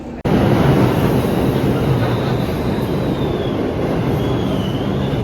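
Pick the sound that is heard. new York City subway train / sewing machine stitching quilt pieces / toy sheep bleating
new York City subway train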